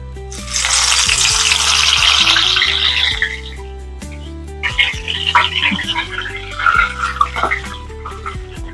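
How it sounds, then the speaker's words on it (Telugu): Spinach pakoda dropped into hot oil in a kadai, a loud, close bubbling sizzle that swells, fades briefly, then crackles again with fresh bursts. "ఇప్పుడు మనం పకోడీని యాడ్ చేసుకుందాము కొద్దిగా."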